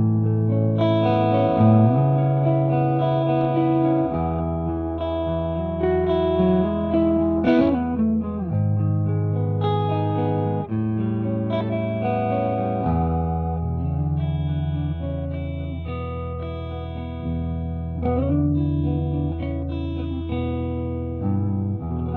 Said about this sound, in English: here's a quick alternate setting of the fat mode in channel 2 set to 50 watts using a tube rectifier